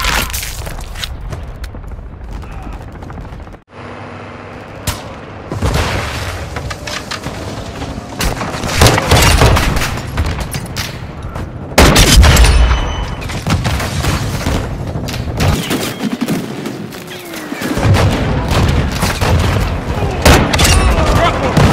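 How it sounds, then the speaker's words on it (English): Heavy explosions and bursts of gunfire in Call of Duty: Modern Warfare II as a cruise missile strikes, loud booming impacts and rattling shots layered with chaotic game noise and voices throughout. "Hostiles launched a cruise missile."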